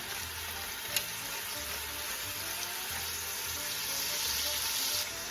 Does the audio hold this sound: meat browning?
yes